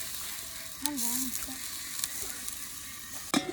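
Chicken frying in a pan, sizzling steadily throughout, with a stir or scrape at about 0.9 seconds and a louder clatter near the end.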